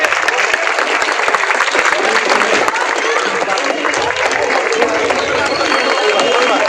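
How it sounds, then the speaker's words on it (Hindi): Sustained, loud clapping from a large crowd at a grand Independence Day ceremony in Firozabad, an even roar of many hands that holds constant throughout. "तालियों में कमी नहीं होनी चाहिए।"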